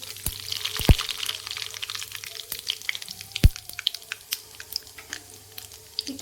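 Cumin seeds crackling and sizzling in plenty of hot oil in a pan for a bitter gourd dish: a continuous sizzle dotted with sharp pops and a couple of louder cracks, close up.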